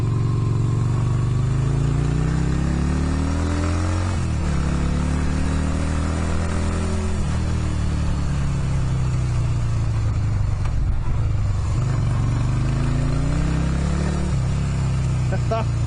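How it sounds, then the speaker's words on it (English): An unregistered motorcycle ridden on back roads, its engine droning loud and close with rising and falling revs through gear changes, and someone talking over it. "I'm loving this bike, I swear to God."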